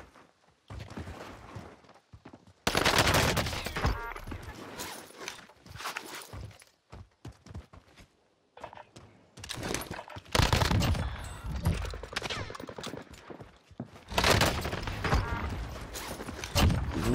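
Loud bursts of automatic gunfire erupt in several sustained volleys during a Warzone solo match, close and harsh, with footsteps and quieter gaps between the firefights and little talk.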